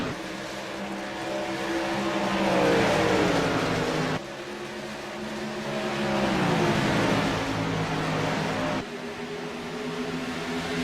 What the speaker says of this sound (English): Scott Healy hits the gas and green flag is out, and we're off and going again here